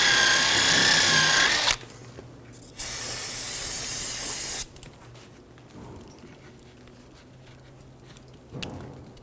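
Parts cleaner sprayed from an aerosol can onto a Toyota Camry rear wheel hub: two loud, steady hissing bursts of about two and four seconds, with quiet gaps and a brief short spritz near the end.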